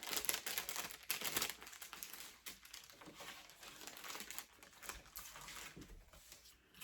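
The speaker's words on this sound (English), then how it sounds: "I put my piece inside the envelope, kind of all at the same time" Soft, close crinkling and rustling of paper as a piece is slid into a paper envelope, with faint irregular handling noises throughout.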